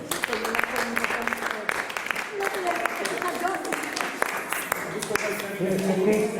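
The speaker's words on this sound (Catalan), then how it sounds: "Per això rebem amb un fort aplaudiment al Carlitos Manso." An adult storytelling event's audience applauds, with sharp scattered claps running throughout while voices and cheering carry on loudly over and among them.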